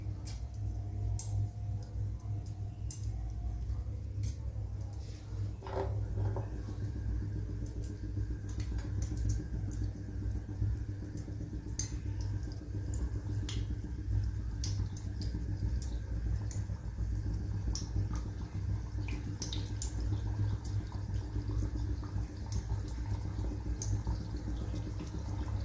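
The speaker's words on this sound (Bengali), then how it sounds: "এবার এগুলো তেলে ফ্রাই করব।" Shaped dough pieces fry gently in lightly heated oil, giving soft scattered crackles and ticking pops over a low steady hum, quiet and close.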